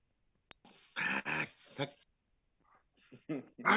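A dog barks and growls in several loud, harsh bursts close to the microphone during a public works committee session, with brief pauses between volleys and a voice partly mixed in.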